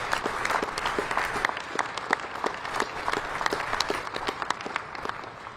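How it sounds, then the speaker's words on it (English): Audience applause for workers at a Syracuse facility during a senator's tech announcement, a dense, steady round of many hands clapping at moderate distance, sustained through the clip without talk. "So let's have a round of applause first for all the workers here."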